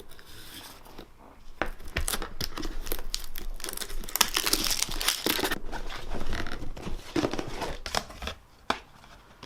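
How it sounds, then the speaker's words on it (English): Plastic shrink wrap is torn and crinkled off a boxed Warmachine/Hordes Legion of Everblight miniatures set, with continuous close crackling, rustling and sharp rips throughout. "Let's get this plastic wrap off."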